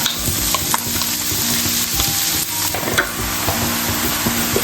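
Garlic and onion browning in a pan, a loud, close, steady sizzle with the rhythmic scrape and knock of a utensil stirring.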